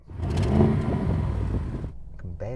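An Audi RS7 V8 revs loudly nearby, a rising, rumbling roar that holds for about two seconds before dropping off, with a voice briefly at the end.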